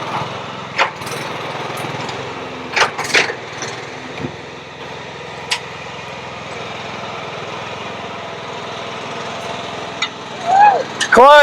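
A mini crawler dumper climbing a dirt pile, its small engine droning loud and steady throughout, with scattered knocks and clanks from the tracks and load and a voice calling out near the end.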